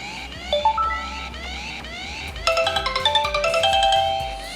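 A loud mobile phone ringtone for an incoming emergency call plays a repeating melodic pattern over a wailing siren-like tone, becoming busier and choppier partway through.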